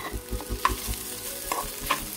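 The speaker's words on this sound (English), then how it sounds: "Now add the chopped okra and fry well." Chopped okra frying with onions and curry leaves in a pan, a steady close sizzle broken by regular stirring scrapes of a spoon, with no talk.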